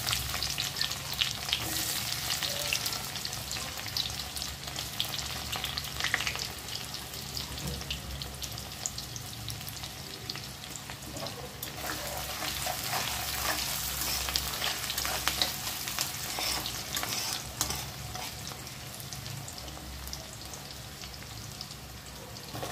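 Chopped vegetables fry in hot oil with whole spices in a pan for paneer biryani, a continuous loud sizzle with crackles and occasional stirring scrapes, no talking.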